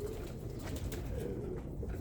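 Birmingham Roller pigeons coo in a steady low murmur, several birds close by with continuous soft throaty calls layered over one another.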